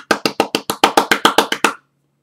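A single pair of hands claps about eleven times in a quick, even rhythm, each clap sharp and close, before the sound stops and leaves silence.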